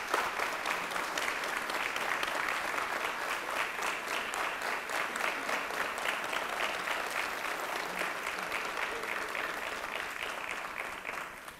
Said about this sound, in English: I want to give our IT staff a real rousing round of applause for this.